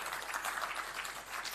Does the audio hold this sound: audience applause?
yes